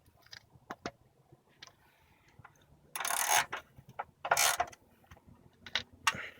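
Hand ratchet snugging the oil drain plug on a 1990s Ford Mustang Fox Body, heard as scattered close clicks and short bursts of ratcheting, with quiet pauses between.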